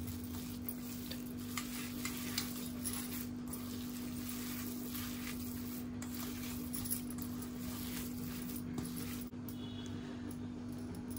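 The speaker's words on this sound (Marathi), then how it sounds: "ड्राय बेसन असं भाजून घ्यायचा आणि मिक्स करायचा" Dry gram flour (besan) being stirred and roasted in a pan for hara bhara kebab, a steady soft scraping and faint sizzle running continuously throughout with a low steady hum beneath, no talking.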